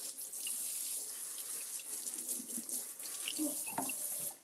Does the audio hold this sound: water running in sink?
yes